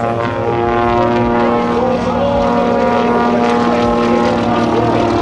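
A Waco Mystery Ship propeller plane flies at the 2009 AirPower Over Hampton Roads airshow, its aircraft engine giving a loud, steady droning roar that stays strong throughout.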